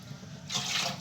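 Water pours into a pot on the stove for a rice-flour sweet, starting as a low gurgle and swelling into a bright, steady splashing stream in the second half of the brief pour.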